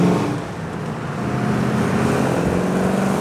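Holden XU1 V8 HDT Torana prototype accelerating hard on the road, a steady loud engine roar with a low rumble that builds slightly and holds through the stretch.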